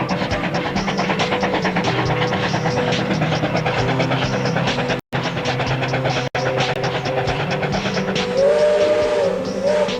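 An old Tasmanian train rumbles steadily nearby with rhythmic clattering, and a steam whistle sounds near the end over the continuous mechanical noise.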